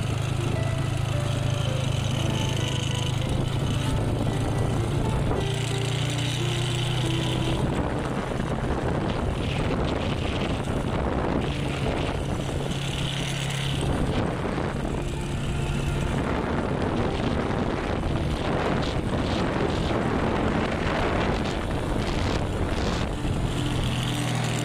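Yamaha FZ150 motorcycle with a leaking head gasket and a 65mm Espada block, running on a test ride: a loud, continuous engine buzz that rises and falls with throttle changes, close to the microphone the whole time.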